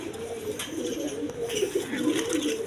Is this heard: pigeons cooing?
yes